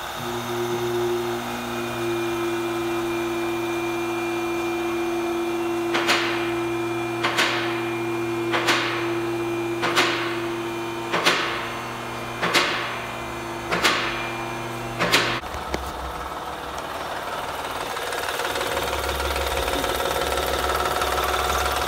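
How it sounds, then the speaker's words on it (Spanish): A 2007 Honda Odyssey 3.5 engine with a worn timing belt tensioner hums steadily up close while a sharp knock repeats about every second and a half, then the engine shuts off, leaving quiet background noise. "Parece que va a ser el tensor de la banda de distribución."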